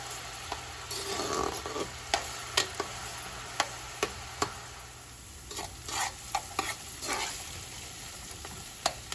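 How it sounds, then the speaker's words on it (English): Steady frying sizzle of onion, garlic and mixed peppers in a pan, with scattered clicks and scrapes of stirring throughout; no talking. "This has been frying up for like about 5 minutes now"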